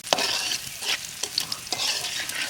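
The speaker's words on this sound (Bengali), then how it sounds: "পেস্টে এখন তৈলে হালকা ভাজি করে নিব" Spice paste for a river-fish dish frying lightly in oil, a bright close sizzle pulsing with repeated stirring strokes roughly every half second, with no one speaking.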